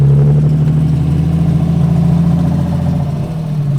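A loud, deep BMW E30 engine with an S52 and open headers rumbles close by with a throaty, uneven idle, holding steady before dipping briefly near the end.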